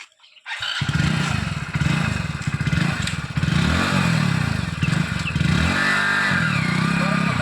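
A motorcycle starts up close by and runs loud and steady, its engine pulsing with rough revs and a clattering mechanical rattle throughout, with faint voices in the background.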